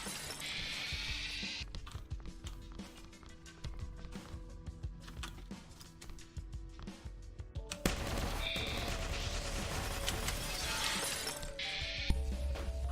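Pistol fire in the video game Blockchain, rapid sharp cracks repeating through a busy game soundscape with shattering and crashing noises, fairly loud and close, with no talking over it.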